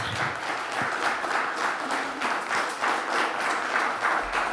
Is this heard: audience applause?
yes